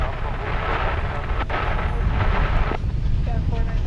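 A jet airliner departing from DFW Airport roars as a steady, loud broadband rumble throughout, with voices faintly mixed in.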